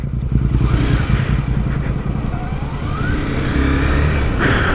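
Honda CBR 250R motorcycle rolling downhill, a steady close engine drone with low rumbling pulses and wind noise running throughout, a brighter whine rising near the end.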